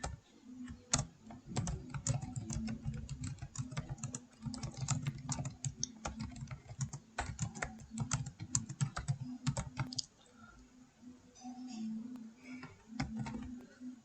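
Continuous fast typing on a computer keyboard while writing a Python program, dense close key clicks with a brief pause near the end, over low background hum.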